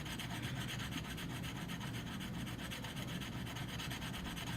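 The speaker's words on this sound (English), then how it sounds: "What I'm hoping to do is actually rub through any plating." A silver piece is rubbed hard against a testing stone to wear through any plating, giving a steady, close, continuous abrasive rasp with no pauses and no voices.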